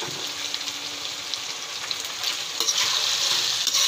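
Potato, peanut and vegetable mix with eggplant being stirred in a frying pan, a continuous close sizzle with scraping strokes that grow slightly louder toward the end.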